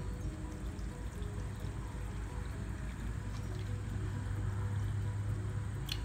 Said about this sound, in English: we're going to water to a half on the gauge